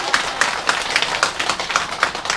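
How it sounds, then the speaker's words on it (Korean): An audience at a Buddhist Sunday dharma gathering claps, a loud, uneven patter of hand claps from a small group with no voices over it. "박수 부탁드립니다"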